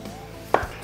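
A single sharp knife chop through potato on a cutting board, close and clear against quiet kitchen background, while vegetables are prepared for cabbage soup.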